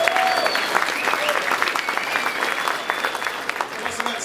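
Applause from a crowd at a Ron Paul political rally in North Dakota, greeting statewide candidates, with steady dense clapping that carries across the whole stretch and a few whistles riding on top.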